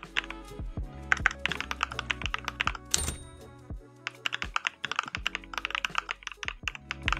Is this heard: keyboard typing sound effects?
yes